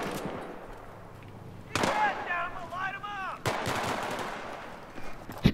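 Gunshots in the video game Battlefield 3, a few sharp loud reports spaced seconds apart with players talking between them.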